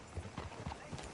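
Hooves of a horse clip-clop in a video game, four or five soft, quick strikes over barely a second, faint and close with no talk over them.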